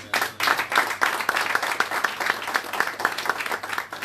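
Audience applause fills a town hall meeting and fundraiser in London, a dense, sustained burst of many hands clapping that swells quickly and keeps a steady, close, lively texture throughout.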